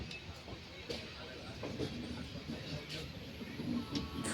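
The Nilgiri Express running from Chennai to Coimbatore gives a continuous rumbling roar with rhythmic rail clatter and occasional sharp clicks, heard from inside the carriage as a dense, steady wash of noise.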